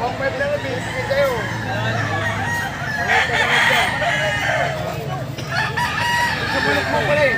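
Roosters crow and hens cluck together at a chicken market, a busy overlapping chorus under a background of crowd chatter.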